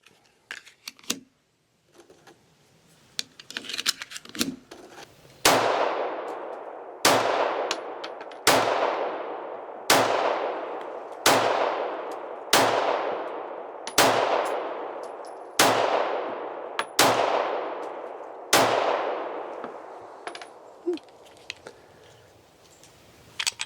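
Ten evenly spaced shots from an S&W Equalizer pistol firing 147 grain full metal jacket rounds, each crack loud and close with a ringing decay, following a few quieter handling clicks at the start.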